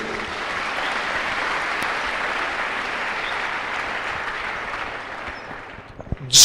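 A church congregation breaks into sustained applause after a scripture reading, a dense, steady wash of clapping that holds for several seconds before thinning out, with a few sharper sounds at the end.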